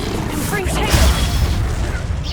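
A Confringo fire spell erupts in Hogwarts Legacy, a heavy booming blast with rumbling low end and a rushing crackle, loud and sustained across the moment, with voice-like sounds mixed in.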